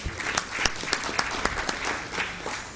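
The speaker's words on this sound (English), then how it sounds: "extend a hearty welcome to Dr. Ahuja with a thunderous round of applause" An audience applauds to welcome a speaker at a gathering, dense clapping with sharp individual claps standing out, steady and fairly close, no talk over it.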